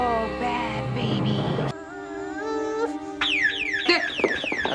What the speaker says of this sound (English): He's using his powers to set off the alarm.